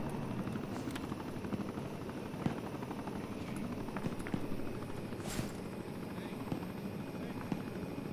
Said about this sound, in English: Chopper's here.